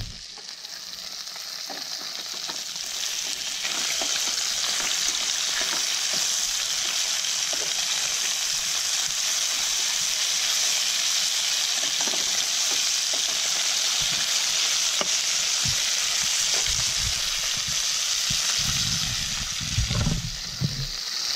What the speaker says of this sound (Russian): А теперь я хочу сделать то, что я давно хотел сделать. А пожарить рыбку прямо на бережку.